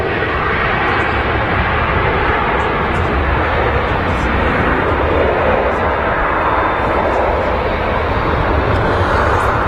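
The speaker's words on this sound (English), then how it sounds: "just touched down is a Jet2 737 in a .com scheme from Venice" Jet2 Boeing 737 rolling on the runway after landing at Manchester Airport, a loud, steady broadband engine roar that holds for about ten seconds, with a voice talking over it.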